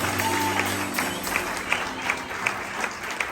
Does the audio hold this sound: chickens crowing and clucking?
no